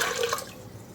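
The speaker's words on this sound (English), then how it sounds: "I am going to pour this back into the cooker" Water pours into a pressure cooker while mutton biryani is being cooked, a brief splashing gush that tapers quickly toward silence.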